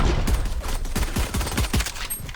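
Rapid bursts of gunfire in the Valorant video game, a fast rattling volley of shots fired close and loud, several quick clusters in a row with no talking.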